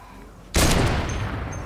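A car crashes in the video game Fortnite: a sudden loud broadband impact is followed by a sustained, noisy roar.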